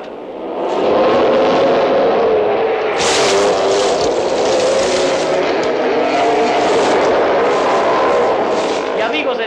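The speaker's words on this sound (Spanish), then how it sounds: "aquí alcanzamos a ver a la moto número 16, perseguida muy de cerca por la número 3" Racing motorcycles on their last lap snarl past, numbers 16 and 3 close together, a loud sustained engine whine under a commentator's excited voice.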